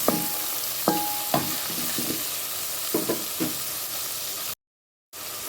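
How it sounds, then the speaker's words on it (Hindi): Tomatoes are worked into hot oil in a frying pan for aloo bhujia, giving a steady sizzle broken by several spoon knocks and scrapes. The sound cuts out for a moment near the end before the sizzle returns. "तो आप डालेंगे हम इसके अंदर टमाटर, इसे थोड़ा सा मिक्स करते हैं।"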